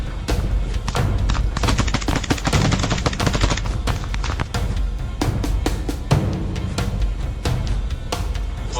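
Rapid rifle gunfire in combat during an incursion in the Kursk region, with dense bursts and single sharp cracks firing continuously and loudly throughout, some shots close and others overlapping like a sustained exchange.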